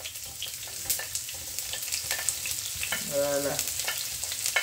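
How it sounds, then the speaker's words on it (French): Onions frying in a pan as the base for a sauce to go with captain fish, with a steady close sizzle and crackle, stirring noises and a brief clatter partway through, and a single short spoken word. "Je vais laisser cuire les oignons"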